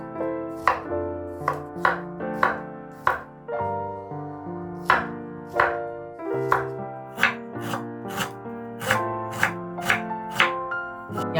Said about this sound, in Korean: 양파는 크기가 작기 때문에 4등분 할게요